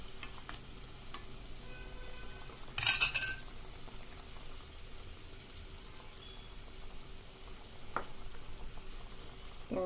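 Pieces of rui fish fry quietly in a pan, a low crackling sizzle broken by a loud utensil scrape and occasional clinks of a spoon against the pan.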